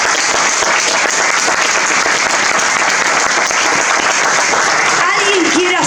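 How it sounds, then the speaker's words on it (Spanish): Sustained applause from a lecture audience after the introduction of a documentary about the search for extraterrestrial life, a dense steady clatter of clapping throughout with a brief voice near the end. "Un aplauso para él"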